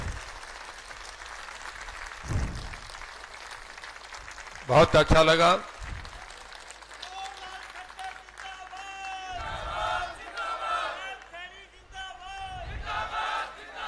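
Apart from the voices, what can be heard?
crowd applauding at a political rally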